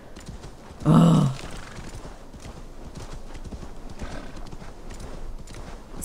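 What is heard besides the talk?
horse galloping in Assassin's Creed Valhalla video game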